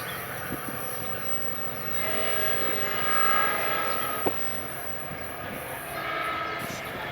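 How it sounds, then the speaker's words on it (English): A passenger train with locomotive 2112 leading arrives at Simi Valley station, a broad steady rumble and hiss swelling gently, heard from trackside with a short clank partway through. "Train's here."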